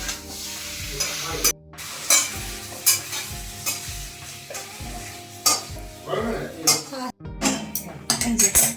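Food frying in oil over high heat in a pan, a continuous sizzle broken by repeated spatula stirs and scrapes against the metal, with occasional clinks and a brief voice in the background.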